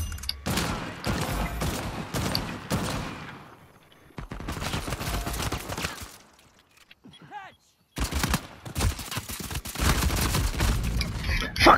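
Rapid pistol fire in an Uncharted 4 team deathmatch, a long string of loud, close shots in dense bursts, broken by a short quiet gap before more gunfire resumes with a voice talking over parts of it.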